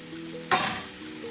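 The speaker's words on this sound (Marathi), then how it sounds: "आता याला छानपैकी फ्राय करून घेणार आहे" Green chillies drop into an onion, ginger and garlic paste in hot oil, setting off a sudden loud sizzle that flares close up and then settles into a softer fry.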